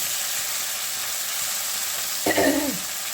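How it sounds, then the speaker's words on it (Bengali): Potatoes frying over a high gas flame in fish oil give a steady faint sizzle, with a brief louder burst of crackling near the end of the clip. "গ্যাস বাড়িয়েই আলুগুলোকে একটু ভাজা ভাজা হবে এই তেলের মধ্যে"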